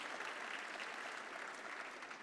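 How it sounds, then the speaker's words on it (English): Audience applause at a Canadian-Ukrainian community event, a steady dense wash of many hands clapping throughout, fairly even in loudness with no talk over it. "big round of applause for Chrystia."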